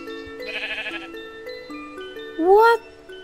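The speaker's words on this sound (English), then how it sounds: "Oh, look at the sheep." A sheep bleats once in Minecraft with realistic mods, a short wavering call near the end over game music and faint background sound.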